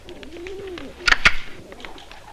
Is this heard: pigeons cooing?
yes